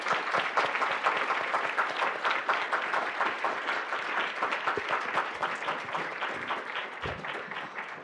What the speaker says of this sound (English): Let's have a round of applause for this.